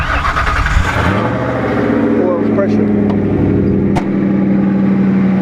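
A turbocharged Ford Crown Victoria engine cranks briefly, catches, and settles into a steady rumbling idle, with a short spoken word under the running motor.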